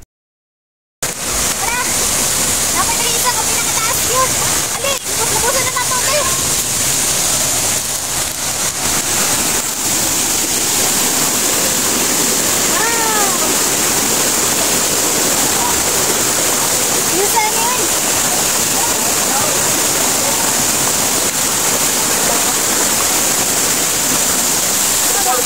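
Kamandag Falls, a waterfall on a forest trail, roars as a steady broadband rush of falling water that stays loud and unbroken for the whole stretch, with bird calls and faint voices mixed in above it.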